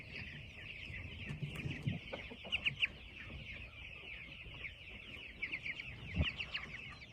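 Meat chickens cluck in a brooder, crowded around a feeder, giving a steady bed of close, soft chatter with scattered louder clucks and brief scuffles, with no voices.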